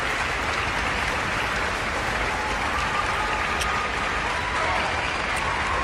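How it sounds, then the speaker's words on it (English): A concert crowd applauds a university orchestra with loud, dense, continuous clapping from a large hall audience, steady throughout with faint cheers mixed in. "Listen to that crowd."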